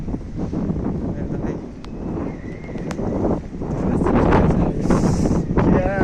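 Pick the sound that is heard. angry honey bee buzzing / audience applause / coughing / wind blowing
wind blowing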